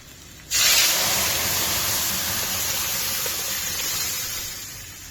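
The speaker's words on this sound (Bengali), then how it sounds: "ভালো করে ফোড়নটাকে আমি আর ভেজে নিচ্ছি এবার দিয়ে দেবো মিক্স ডালটা" Mixed dal of moong, masoor, chana and split green moong hits hot spice tempering with a sudden loud sizzle that holds steady for several seconds, then eases slightly toward the end, with no talking over it.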